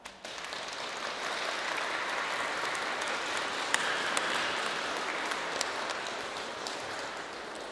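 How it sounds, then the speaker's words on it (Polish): Audience applause in a school hall after a primary school Christmas nativity play, a continuous, even patter of many hands clapping, moderately distant and soft, with a few sharper claps standing out. "Jeszcze raz brawa dla was."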